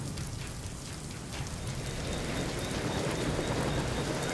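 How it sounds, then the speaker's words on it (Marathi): Heavy rain pouring down in Mumbai, a dense, steady wash of drops on surfaces that swells slightly louder toward the end, with no voices. "मुंबईत रात्रीपासून जोरदार पाऊस सुरू आहे"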